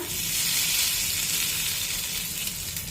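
Hot tempering with curry leaves sizzles and crackles steadily as it hits chutney in a pan, a bright continuous frying hiss close to the microphone.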